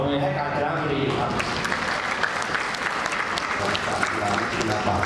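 Sustained applause from an audience at a large meeting preparing for Thailand's National Games, dense and fairly loud clapping filling the whole stretch.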